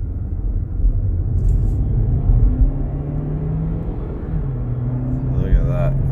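A 2018 Chevrolet Cruze with a 1.4L turbo engine and a cylinder 1 misfire accelerates, giving a steady low rumble with rising engine drone heard from inside the car, fairly close and continuous.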